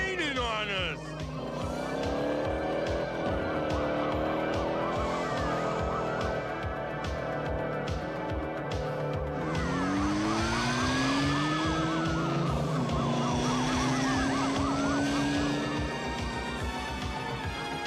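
A cartoon police chase plays out with a wailing siren and revving car engines, rising and falling pitch sweeps over a constant rumble of motors and tire noise, loud and continuous throughout.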